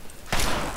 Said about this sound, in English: Explosion! The missile did very little damage on me.